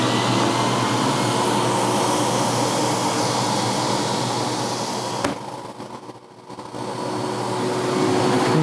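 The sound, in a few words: shop vac running on vacuum table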